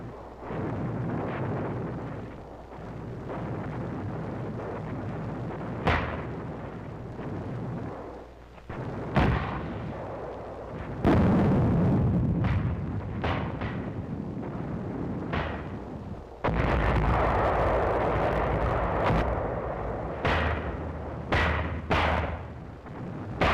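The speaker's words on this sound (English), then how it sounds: "We called back for mortars and 155s." Mortar and 155 mm artillery fire pounding a Japanese-held hill on Angaur in 1945, heard as repeated heavy booms and blasts over a continuous low rumble, with several sharp bursts standing out loud against the steady roar.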